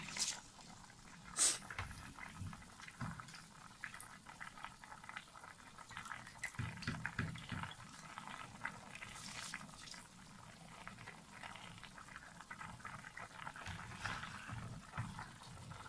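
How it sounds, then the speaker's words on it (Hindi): Soaked rice tipped into a pot of boiling peas and potatoes for matar pulao, with a steady low bubbling and simmer, scattered splashes and soft clinks, close and moderately quiet throughout. "अब हम इसके अंदर ऐड करेंगे अपने भीगे हुए चावल"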